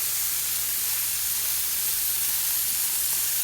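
Sausages sizzle on a Lodge Sportsman cast iron charcoal grill, a steady dense hiss and crackle, close and fairly loud, with a faint low hum underneath and no talk.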